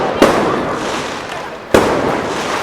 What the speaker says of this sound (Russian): мне прилетела маленькая петарда по ноге